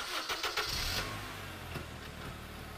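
A 2-liter petrol engine in a Honda Accord cranks briefly with a few rapid starter pulses, then catches and settles into a low, steady idle hum, heard up close with no voices.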